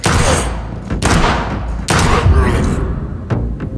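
Heavy gunshots in the video game Vampyr, three or four loud, booming blasts spaced about a second apart, each with a ringing tail.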